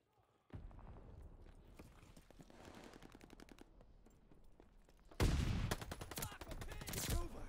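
MP40 submachine gun firing in a video game, sharp rapid bursts in two stretches, with a louder, denser volley near the end.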